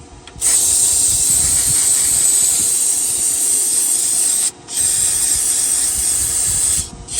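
Cleaner sprayed onto the spring of an MTD Yard Bug riding mower: a loud, steady aerosol hiss held for about four seconds, a brief break, then a second long burst, with no talking.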